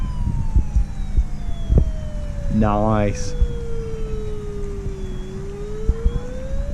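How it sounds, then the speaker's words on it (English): A small, tinny emergency siren from a model village fire scene at Babbacombe Model Village wails and slowly sweeps in pitch, with a brief warbling horn and a person talking briefly nearby. "All the sirens as well."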